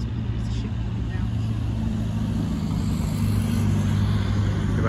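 A car passes on a road beside a canal, a steady close engine and tyre rumble swelling slightly as it goes by, continuous for several seconds with no talk over it.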